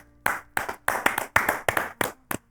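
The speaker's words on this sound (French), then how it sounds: "on l'applaudit s'il vous plaît" Clapping in a quick, irregular series of about eight sharp claps, close and fairly loud, sounding like a few pairs of hands rather than a large crowd.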